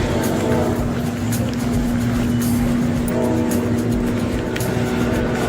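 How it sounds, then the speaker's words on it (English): A train approaches a station as a steady low rumble with a sustained droning tone, heard continuously at a moderate distance with faint background noise. "Oh, I hear the train coming."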